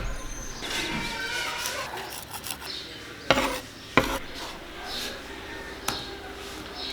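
Miswak twig scrubbing against teeth, a soft rasping back-and-forth rubbing close up, broken by a few sharp clicks and taps, with a voice talking at times.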